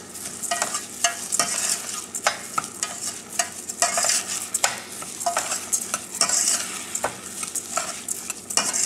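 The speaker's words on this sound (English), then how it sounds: "We have to fry the rice." Basmati rice being stirred and fried in a pan for peas pulao, repeated sharp scraping and rattling strokes over a light sizzle, close and fairly loud, no talking.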